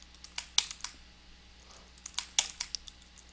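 Keys on a computer keyboard clack in short irregular bursts during play of a fighting game, crisp and close over a faint hum, with a brief pause midway.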